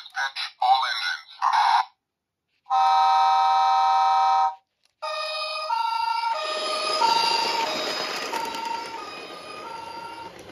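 A Märklin toy fire train plays its electronic fire engine siren: steady tonal blasts, then a long wailing siren over noisy hiss, loud and close, after short recorded announcement-like bursts.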